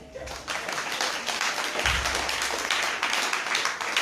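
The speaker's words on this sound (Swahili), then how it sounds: "Hebu mpatie Bwana Yesu makofi." A church congregation claps together during a Swahili sermon, a dense, sustained patter of many hands filling the space at steady loudness, with a brief low thump partway through.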